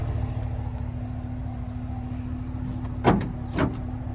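Two quick mechanical clunks in succession, like a latch releasing, over a steady low hum, close by, with no voices: the power tailgate release on a 2025 Chevy Silverado 1500 RST pickup truck.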